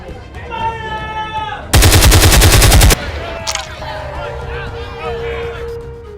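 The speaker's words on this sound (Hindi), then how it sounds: "जलियांवाला बाग में अंधाधुंध फायरिंग हुई है" A gunfire sound effect of indiscriminate firing: a loud, rapid machine-gun burst lasting just over a second, set amid a scene with voices speaking before and after it.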